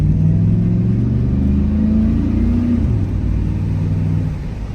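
A 2002 Chevrolet Silverado pickup, recently repaired for engine misfires with new coil packs, pulls away under acceleration with a steady, loud, close engine rumble; the pitch climbs, then drops at a gear shift before settling again.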